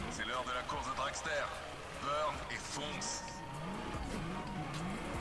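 A Mustang races in The Crew Motorfest on PS5, its engine revving and shifting with rising and falling tones while tires squeal, and someone talks over the game audio.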